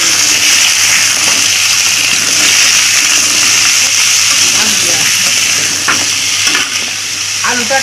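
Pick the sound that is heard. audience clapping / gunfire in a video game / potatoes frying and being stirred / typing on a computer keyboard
potatoes frying and being stirred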